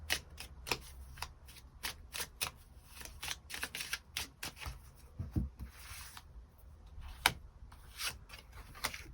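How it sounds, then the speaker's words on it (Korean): Tarot cards shuffled and drawn by hand, a string of quick, close, soft riffling flicks and slaps at an irregular pace, quiet and with no voice. "추가 카드 뽑아보도록 하겠습니다"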